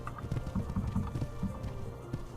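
Horse hooves clip-clop in a steady trotting rhythm through a village in the horse-riding game Saddle Club Willowbrook Stables, close and clear over a soft game background, with no talking.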